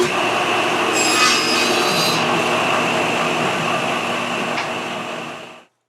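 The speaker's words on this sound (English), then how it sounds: "Then I'm just going to start grooving these parts until we fit the bottoms." A table saw cuts grooves into wooden cabinet parts, a loud sustained blade whine with rasping wood-cutting texture that holds steady for several seconds and then cuts off abruptly.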